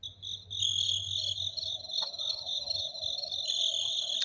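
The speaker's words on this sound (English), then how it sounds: "Crickets." Crickets chirp in a continuous chorus of close, high, pulsing trills, heard alone without any talking.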